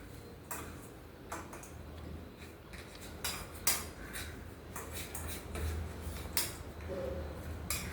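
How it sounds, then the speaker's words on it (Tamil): Coconut and country sugar (jaggery) being stirred together in a pan, with close, repeated scraping and light metallic clinks of the spoon against the pan at an uneven pace and no talking. "இந்த தேங்காய் இந்த நாட்டு சக்கரை சேர நம்ம கலக்கிட்டே இருக்கணும்."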